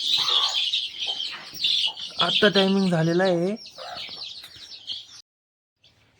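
Chickens cluck on a village poultry farm, with a drawn-out, harmonic call rising briefly in the middle. Someone talks over the birds for most of the stretch before things fall quiet.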